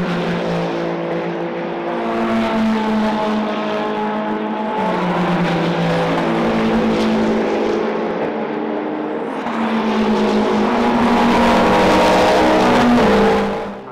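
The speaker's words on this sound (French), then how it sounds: "Donc, entrée du safety car en piste" Race cars at Imola circulate behind a safety car, several engines droning and rising and falling in pitch as they pass, loud and continuous with no talk.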